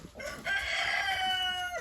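A chicken lets out a loud, drawn-out crowing call close by, preceded by a brief softer cluck.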